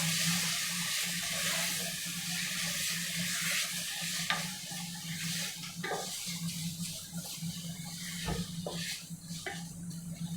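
A spoon stirs tomato paste through a simmering chicken curry masala, a steady wet sizzle with soft scraping and occasional clinks against the pan, close and continuous with no talk.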